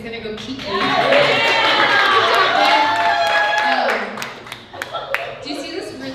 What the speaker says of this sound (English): everyone clap for Ben